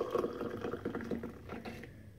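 Hot water pours from a pot into cups of instant coffee, a close, steady liquid splash and gurgle lasting about two seconds, then it stops.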